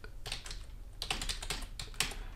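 Keys clatter on a computer keyboard in short quiet bursts of typing, several quick clusters of taps separated by brief pauses, close and soft with no voices.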